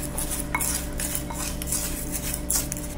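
A spoon scrapes and clinks steadily against a bowl while stirring bath salts mixed with dried herbs, a continuous close gritty stirring with occasional sharper taps.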